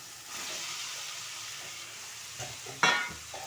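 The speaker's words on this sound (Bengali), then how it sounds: "এবার পটলগুলো দিয়ে দেবো" Pointed gourd pieces drop into spices frying in oil, a soft steady sizzle that flares into a sharp burst of hissing with a clatter near the end, close but fairly quiet, no voices.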